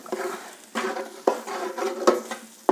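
Roasted coriander and chili powder being stirred in a pan, a spoon scraping the metal in about five distinct, fairly regular strokes with soft rustling between them, close up with no voices.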